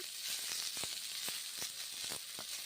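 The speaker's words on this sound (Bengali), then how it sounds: "মুগের ডালগুলো ছেড়ে দিলাম, নেড়ে চেড়ে নিচ্ছি মুগের ডাল বেগুন" Mung dal and eggplant frying in a pan give off a steady broadband sizzle, punctuated by sharp crackles and pops from stirring, close and fairly loud with no talk.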